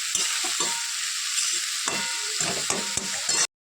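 Red amaranth greens fry in a pan, a continuous close sizzle broken by frequent scraping and tapping of a spatula stirring the leaves, ending abruptly in silence, no voices.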